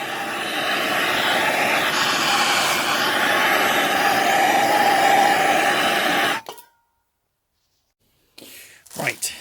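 A torch roars steadily and loudly while heating a cast iron motorcycle cylinder before welding, holding for about six seconds, then cutting off abruptly into silence before a few short bursts return.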